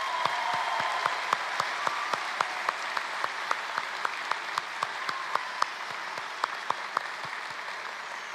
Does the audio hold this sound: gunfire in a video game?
no